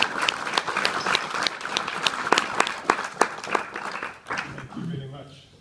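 An audience at a book launch on African leadership claps to welcome a speaker: dense, sustained applause from a nearby crowd with sharp individual claps, fading out toward the end as a voice begins.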